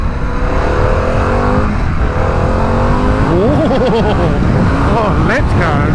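A Harley-Davidson Pan America motorcycle accelerates hard on a motorway, its engine note climbing through rising revs with quick gear changes. Strong wind rush runs underneath, and a rider's voice is heard.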